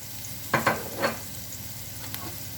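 White stalks of spring onion fry over low heat in a pan, giving a faint sizzle and a few short scrapes and stirs close together near the start.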